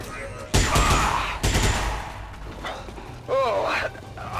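A mech in the video game XCOM 2 opens fire with two loud bursts of gunfire close together, then a softer electronic whirring sound follows over a low game hum.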